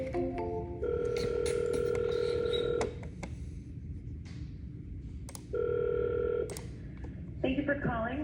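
Telephone dialing on an outgoing call: steady beeping tones and dial signals in bursts, with a person speaking in between.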